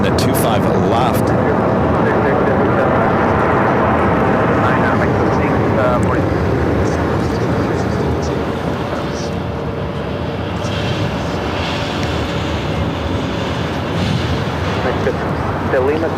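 An Aeromexico Boeing 787 Dreamliner touches down on runway 25 left at LAX, a loud, sustained broadband engine roar that holds steady for the whole stretch, with a voice talking over it.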